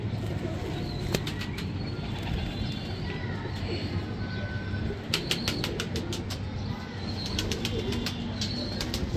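Teddy breed pigeons cooing softly while bursts of wing flapping break out in several quick clattering flurries, close by, with no one speaking.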